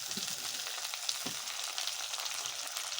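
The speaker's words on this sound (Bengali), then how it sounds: "পেঁয়াজ কুচিটা ভাজা হয়ে গেছে, এখন এতে আমি দিয়ে দেব টমেটো" Chopped tomatoes go into a pan of fried chopped onion, setting off a steady, close, bright sizzle that crackles evenly throughout with no talking.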